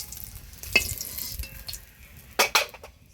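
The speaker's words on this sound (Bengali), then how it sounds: "খোসা ছাড়িয়ে রাখা ডিমটা একটু হলুদ দিয়ে ভেজে নিব।" A peeled boiled egg fries with turmeric in oil in a pan over a high flame. Quiet sizzling runs throughout, broken by a few sharp utensil scrapes and clinks against the pan, loudest near the end.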